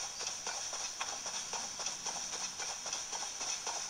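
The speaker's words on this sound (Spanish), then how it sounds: "Caballos. Caballos. Me interesan los caballos." Horse hooves clip-clop in Zelda: Tears of the Kingdom, a quiet, steady run of evenly spaced hoof beats at a trotting rhythm, alone with no talk over it.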